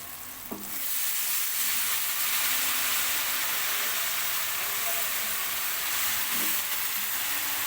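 Washed fenugreek leaves drop into a pan of frying onions, and a loud, dense hiss of sizzling rises at once and holds steadily, with a faint clink of the pan near the start and again later.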